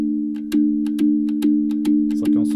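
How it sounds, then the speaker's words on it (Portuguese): A synthesizer sound played as percussion on a music sampler: a sustained low tone with sharp clicky hits landing at an even, steady pulse, loud and close. "Isso aqui é um som de sintetizador, mas funciona como uma percussão."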